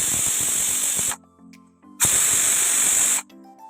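A pressure cooker whistle shrieks as it vents steam while rice pilaf cooks, two loud sustained hissing blasts of about a second each, separated by a short quieter gap of low rumble.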